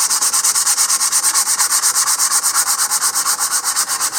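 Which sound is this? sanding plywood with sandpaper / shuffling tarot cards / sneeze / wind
sanding plywood with sandpaper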